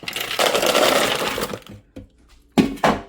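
A Cuisinart food processor whirs as it chops mandarin oranges, a loud grinding buzz that cuts out abruptly, followed by a few clunks and another short burst of motor noise.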